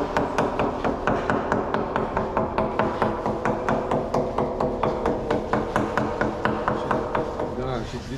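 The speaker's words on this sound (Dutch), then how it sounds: "Dus de hamer met het kloppen stuit het ook niet lekker terug." A hammer knocks repeatedly on a wooden boat mast being checked for rot, giving sharp, close, evenly spaced taps about four per second, with someone talking at times beneath them.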